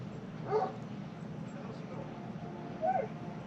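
A dog lets out two short yelping barks, about two seconds apart, faint and somewhat distant in a quiet outdoor setting.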